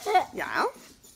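A dog whimpers and yips briefly, close by, with voices talking over it.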